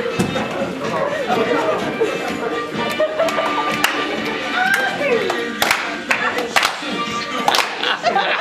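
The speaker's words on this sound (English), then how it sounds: "Clap it up, everybody, clap it up." A group claps continuously with sharp, uneven hand slaps, mixed with lively chatter and voices calling out nearby.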